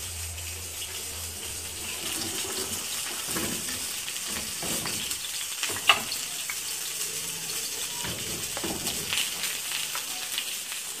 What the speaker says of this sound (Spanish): Y las ponemos a freír en aceite.